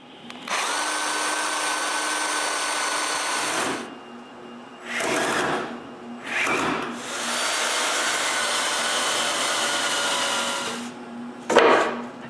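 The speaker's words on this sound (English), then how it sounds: "now I can drill and screw this nice piece of wood" Power drill boring and driving screws into a piece of wood for a homemade wooden bandsaw, with long whining bursts of the motor and short breaks between them, close and loud.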